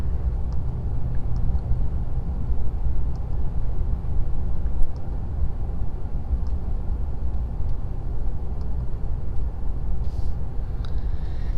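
Cabin of a 2019 RAM 3500 Limited with Cummins diesel engine on the move, a steady low rumble of engine and road noise throughout with faint light ticks and rattles, no voices.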